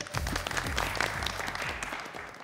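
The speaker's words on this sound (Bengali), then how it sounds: "আমরা সবাই সবার জন্য একটা জোরে হাততালি দেই।" Loud applause from the whole group at a beauty reality-show competition, dense steady clapping that runs for the full stretch.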